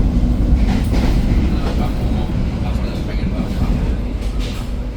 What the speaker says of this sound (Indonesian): Kita menyusul KRL komuter lain arah Kampung Banda.